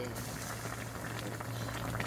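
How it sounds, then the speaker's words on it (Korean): Braised cutlassfish stew bubbles vigorously in a pot at a restaurant, a dense, continuous close-up boiling and sputtering with voices in the background. "야 끓는 소리가 참 야 맛있겠다"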